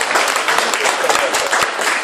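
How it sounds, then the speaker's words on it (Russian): Studio audience on a televised debate show clapping together, a dense burst of many hands close and loud, with a voice speaking over part of the applause. "Аплодисменты Артему"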